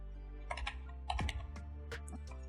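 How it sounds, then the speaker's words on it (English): Computer keyboard keys, including the arrow keys, are pressed while working in Blender 3D software. A few scattered, light clicks sound close by with pauses between them, then a sharper tap comes at the end. "I use arrow keys."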